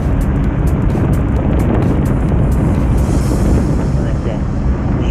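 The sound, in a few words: wind noise on microphone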